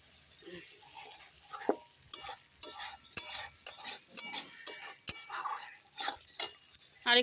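Rohu fish curry being sautéed in a home-kitchen pan, a spatula scraping and clinking against the metal in quick irregular strokes over a soft sizzle, close and moderately loud, with no talking.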